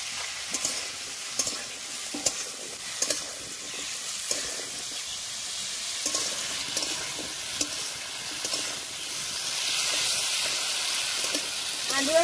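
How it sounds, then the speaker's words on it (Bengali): Potatoes and pumpkin being stir-fried in a pan with salt and turmeric, steady sizzling with repeated scraping and stirring strokes of a spatula, close by and moderately loud throughout. "আলু আর কুমড়া দিয়ে ভালো করে কষে নিয়েছি"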